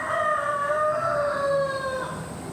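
A rooster crows once in a long, drawn-out call that rises and then tails off, loud and close, with steady outdoor background noise underneath and nobody speaking.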